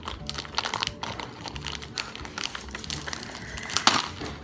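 A crinkly plastic shipping package being pulled and torn open by hand, with close, irregular crackling and rustling bursts throughout and no talking.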